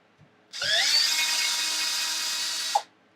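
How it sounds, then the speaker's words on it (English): A power drill spins at high speed for about two seconds while loosening the sway bar screws on an Arrma Limitless RC car, steady and close, with a short click as it stops. "let's make this drill stronger"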